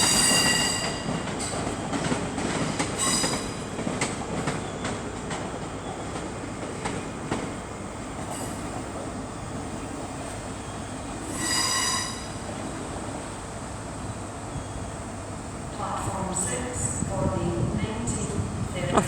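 A train pulls out of Edinburgh Waverley station with steady rolling rumble and wheel squeal, a brief loud hiss around the middle, and clicking wheels picking up toward the end in a large echoing station.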